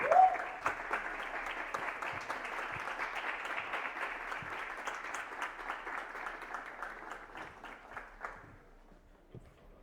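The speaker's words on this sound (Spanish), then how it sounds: "Un aplauso, por favor, y los invito a pasar." A gathering audience at a political discussion event in Ecuador gives a warm round of applause to welcome guests. It opens with a short vocal note, then steady clapping that thins and fades away near the end.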